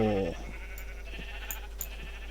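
A single short sheep bleat from the Minecraft video game opens, followed by quiet game ambience with a few faint soft clicks.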